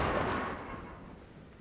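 Gunfire in the video game Apex Legends: a loud, booming burst of shots right at the start that fades into a rumbling tail over under two seconds, with no talk.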